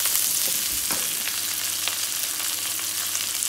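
Curry leaves frying with small onions in oil for village-style fish curry: a loud, bright, continuous sizzle with a few crackling pops near the start, close up and with no voices.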